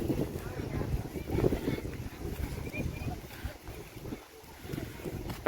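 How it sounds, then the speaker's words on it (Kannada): Strong wind blows hard at an open outdoor spot, buffeting the microphone in a continuous rough rumble that swells and dips in gusts, with faint voices underneath. "ಇಲ್ಲಿ ಮಾತ್ರ ಗಾಳಿ ವಿಪರೀತ ಬೀಸ್ತದೆ"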